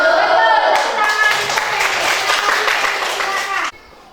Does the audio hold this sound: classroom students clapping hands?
yes